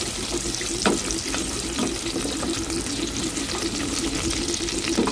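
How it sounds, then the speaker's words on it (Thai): Ginger, garlic and spring onion stir-fry over low heat, giving a steady gentle sizzle with a few soft scrapes and stirring taps throughout, and no speech. "ขิงนะคะ กระเทียมแล้วก็ ต้นหอมมาผัดกันนะคะ แค่ไฟอ่อน ๆ นะคะ"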